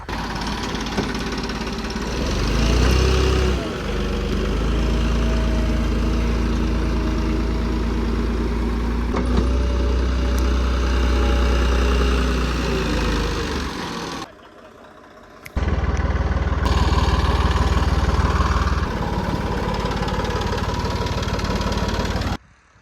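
A spray tractor's engine runs steadily on a farm with a garlic crop, a loud, close, continuous rumble with a brief dip in volume partway through before resuming.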